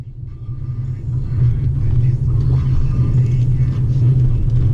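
A turbocharged LS-VTEC hatchback drives along, its engine and road rumble building to a steady, loud low drone with no talk.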